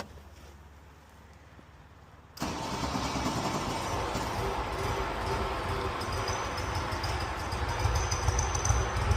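A classic SAAB car engine is quiet at first, then abruptly fires and settles into a steady, close, rumbling idle that continues to the end, with no talking.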